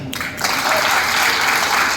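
Audience applause at a product launch event, a dense burst of clapping starting abruptly and holding loud and steady throughout.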